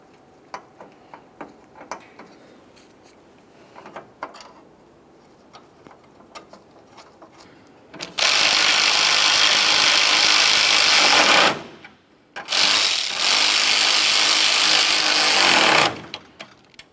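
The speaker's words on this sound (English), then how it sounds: "Start in all of your mounting bolts and then snug them up." Mounting bolts on a 2004-2006 Scion xB radiator cooling fan are snugged up, first with scattered light metallic clicks and ratchet ticks, then two long loud stretches of steady power-tool whirring close by.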